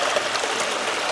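Broad rushing wash of water flowing out through opened valves at the base of mineral-separating vats, constant and close with no break.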